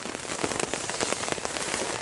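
Dense rain patters steadily and close on a tent in Washington, a continuous fast drumming of drops with no voices.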